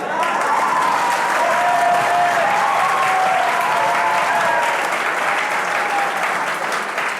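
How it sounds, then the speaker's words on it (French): A large audience breaks into sustained, enthusiastic applause at a Malagasy arts performance event, dense clapping holding steady and loud throughout without a break. "merci pour votre applaudissement enflammé."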